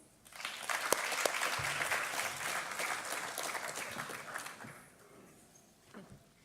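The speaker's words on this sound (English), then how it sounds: "A round of applause, please." An audience at a literary panel event on memoir and fiction breaks into applause that builds quickly, holds as a dense wash of claps, then fades away toward the end.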